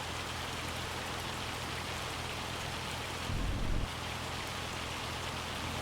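Rain falls steadily in Farming Simulator 25 on a rice-field map, a continuous hiss of drops on surfaces with a brief louder, low rumbling swell in the middle.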